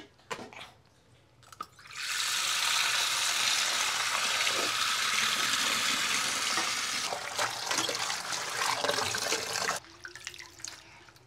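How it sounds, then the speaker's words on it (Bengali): Tap water runs steadily into a sink while fresh sour leaves are washed, a continuous splashing rush lasting most of the clip, with brief handling noises before and after. "আর এখন আমি এই টক পাতা ধুয়ে নেব।"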